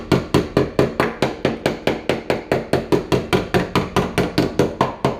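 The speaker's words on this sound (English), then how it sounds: "I like to use my pointy body hammer because that, see how I can knock rust out?" A pointed body hammer knocks rust out of a 1966 Ford Galaxie 500 convertible fender, striking steadily about four times a second with sharp, loud metallic raps that continue without a break.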